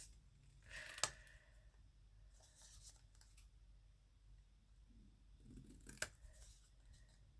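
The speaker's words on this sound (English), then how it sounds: "So you can do this all with your scissors." Scissors cut patterned paper and cardstock for a handmade Christmas card, giving two sharp snips about five seconds apart over faint rustling of paper, close and quiet.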